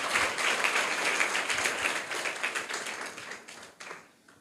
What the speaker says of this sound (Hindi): इनके लिए आप लोग जोरदार तालियां बजाइए।